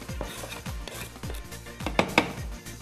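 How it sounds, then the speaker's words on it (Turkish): A knife chops parsley finely on a board in a kitchen, giving a steady series of soft, close thuds, with two sharper clinks near the end. "Maydanozumuzu çok güzel küçük küçük doğruyoruz ki çok büyük olmayacak"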